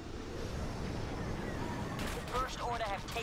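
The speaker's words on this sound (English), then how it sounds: "Taking heavy fire." Heavy weapons fire rumbles through an X-Wing space battle game, a dense, continuous roar of blasts at moderate distance, with radio voices and electronic chirps breaking in near the end.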